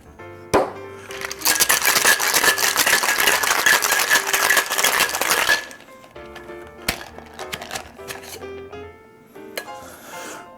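A cocktail shaker packed with ice and Bloody Mary mix is shaken hard and steadily for about five seconds, a loud continuous rattle, then set down with scattered clinks and knocks before a final short burst.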